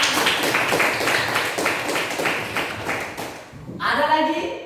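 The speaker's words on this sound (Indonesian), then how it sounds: "Iya, tepuk tangan." A classroom of students claps hands together in a brisk, rhythmic burst of several even beats close by, which fades out before voices begin talking.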